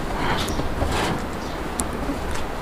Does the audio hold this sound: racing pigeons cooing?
yes